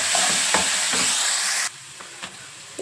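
Soaked moong dal hits a pan of fried onion and green chilli with turmeric, giving a loud steady sizzle and stirring scrapes that drop abruptly to a quieter crackle partway through.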